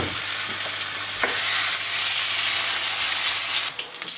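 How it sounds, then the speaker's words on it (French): Chicken wings in garlic marinade cooking in a sauté pan, giving a loud, continuous frying sizzle with bursts of steam, stirring and scraping, and a sudden drop in the final moments. "On va maintenant verser le tout dans une sauteuse. Donc toute la marinade."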